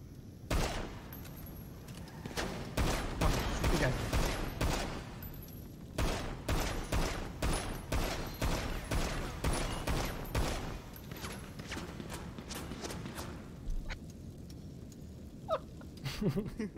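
Sustained, heavy gunfire during a bank robbery in a video game, with dense rapid bursts and volleys that keep coming almost without pause, loud and close throughout before thinning out near the end.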